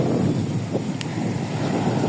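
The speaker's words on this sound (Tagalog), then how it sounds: "Hindi ganito yung alon dito nung kahapon eh." Ocean surf washing continuously at a beach on Jomalig Island, a broad steady rush of waves blended with heavy wind buffeting the microphone, close and loud with no talk.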